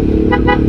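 Two quick, loud honks from a vehicle horn in a video game, close and back to back over a constant engine drone.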